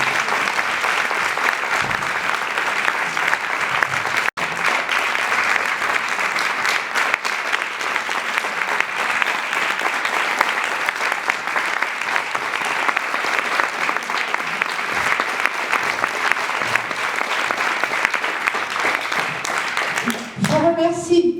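Sustained audience applause at a 90th jubilee celebration, dense even clapping that continues steadily for about twenty seconds before fading into a voice at the end.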